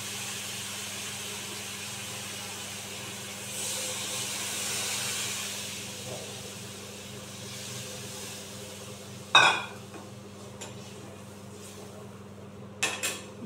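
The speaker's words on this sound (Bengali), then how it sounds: "এবার দিয়ে দেবো জল।" Water goes into a pan of frying potato and eggplant for a hilsa fish curry, raising a broad steamy hiss that fades, then a sharp metallic clatter and a couple of later knocks over a low hum.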